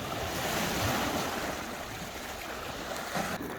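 Waves wash onto the Sea of Galilee shore at Capernaum, a steady broad rush of surf with wind buffeting the microphone.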